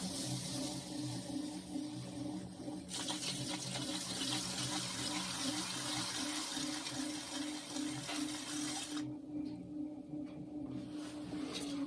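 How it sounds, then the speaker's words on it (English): Water trickles onto the rim of a clay bowl spinning on a pottery wheel. A soft, continuous splashing runs over the wheel's steady motor hum, then thins out near the end. "I'm going to dribble the water right on the rim so it goes in and out."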